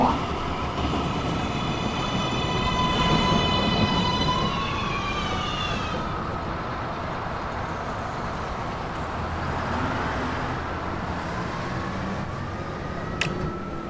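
A New York R142A subway car on the 1 train rumbles along the tracks with a loud steady roar, rising and falling motor whine and occasional rail squeals, close and continuous with no talk.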